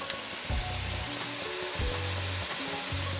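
Salt and mustard seeds sizzle in hot oil for a spicy potato curry, a steady loud hiss close up with a few soft knocks and stirring clunks underneath.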